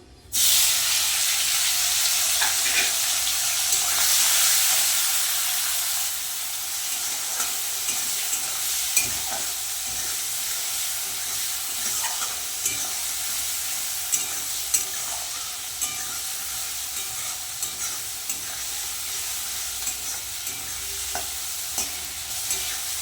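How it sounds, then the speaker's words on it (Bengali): Shrimp frying in hot oil, a dense, loud hissing sizzle that bursts up at the start and then settles into a steady crackle with scattered pops and occasional utensil taps, close by. "তেল কিন্তু গরম হয়ে গেছে দিয়ে দেবো চিংড়ি মাছগুলো"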